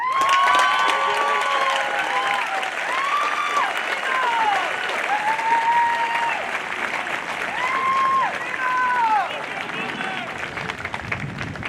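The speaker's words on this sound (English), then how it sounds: "All right, one more round of applause." Graduation-ceremony audience at Nuclear Power School breaks into sustained, dense applause with scattered cheers and whistles, loud and steady for about ten seconds before tapering slightly.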